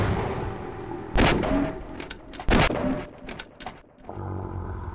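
Gunfire in Half-Life: two loud, sharp shots a second or so apart, each with a booming tail, among ambient game noise and a few softer clicks.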